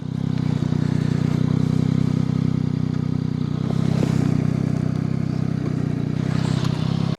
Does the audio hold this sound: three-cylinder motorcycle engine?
yes